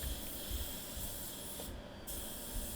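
Spray paint hisses steadily from a can while yellow racing stripes go on over masking, with one brief pause before the spraying resumes.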